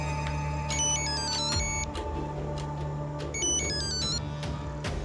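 A phone rings with a repeating electronic melody, bright tones over a low steady hum, sounding several times in a row.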